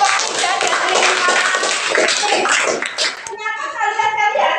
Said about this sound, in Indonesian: Tepuk tangan untuk kelompok 3 dan terima.